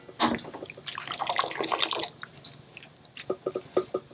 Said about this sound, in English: douse right in this boiling water just a minute or so, and then drain them off in this colander